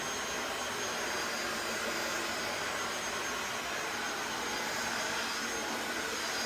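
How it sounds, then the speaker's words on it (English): A Harbor Freight heat gun blows hot air onto a car bumper during painting, giving a steady, loud, close-up roaring hiss that holds unbroken from start to finish. "This is a Harbor Freight heat gun."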